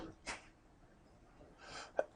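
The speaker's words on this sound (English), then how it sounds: "I'm going to sneeze." One person sneezes near a quiet microphone indoors: a sharp intake of breath, then a brief, explosive burst, soft overall with silence around it.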